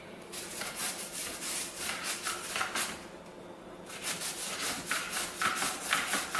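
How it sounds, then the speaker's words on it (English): Carrots being julienned into thin strips with quick back-and-forth strokes, giving a steady run of close, rhythmic rasping cuts with a short pause midway. "with julienning the carrots, so quite literally, we can go backwards, forwards to do this as quickly as possible"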